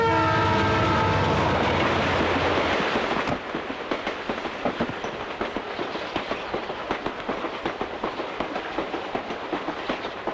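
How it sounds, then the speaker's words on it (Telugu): A train horn blares loudly for a few seconds, then gives way to the steady rumble and rhythmic clatter of a moving train. "ట్రైన్ కదిలిపోతే ఎక్కేసాను"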